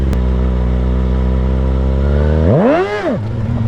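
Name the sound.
636 stunt motorcycle revving during a wheelie attempt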